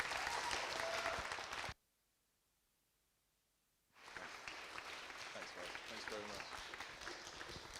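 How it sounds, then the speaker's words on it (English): Audience applause at a fireside chat event, a dense burst of clapping that cuts off abruptly, then resumes after a two-second gap and carries steadily to the end, fairly full and close. "One more round of applause for the Oliver twins"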